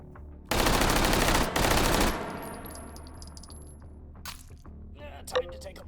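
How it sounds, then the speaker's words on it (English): A gun in the VR shooter H3VR empties a full magazine in a dense, loud burst of automatic fire lasting about one and a half seconds, followed by ringing echoes and small clinks of falling brass. "Remember, you can unload your mag just fine."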